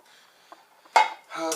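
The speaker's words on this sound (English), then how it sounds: "Inside of here I have a smaller cooker set." Metal camping cookware is handled: a single sharp clank of a pot or lid rings out, then a brief rattling clatter of the smaller cook set pieces knocking together, close and fairly loud after near silence.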